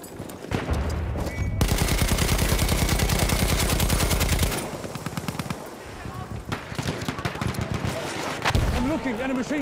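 A Battlefield 1 machine gun fires a long, steady, rapid stream of loud rounds at close range, then sporadic shots and battle noise follow while voices call out in the background.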